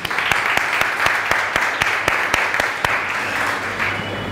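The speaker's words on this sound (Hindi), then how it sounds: "तालियां मारेंगे सोने वालों के लिए।" An audience at a sermon applauds steadily for several seconds, a dense, continuous patter of clapping with a few sharper claps standing out.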